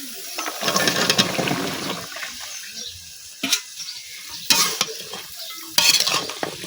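Chopped vegetables, potato and eggplant among them, go into a pan of dried mola fish already fried down in oil and spices, followed by stirring, scraping and sizzling in bursts that swell and fade.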